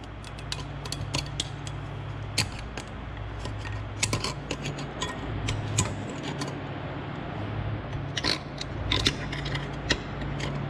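Cotter pin hook tool working out a front axle seal on a GM 2500HD GMT800 truck: faint metallic clicks and scraping ticks scattered over a steady low hum, close by, with no talk.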